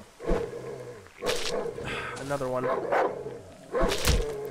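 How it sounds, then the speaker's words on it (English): A dog in the horror survival game Darkwood barks several times, loud and close, in short bursts mixed with whining tones, while a person talks over it. "I don't need you barking at me, dog."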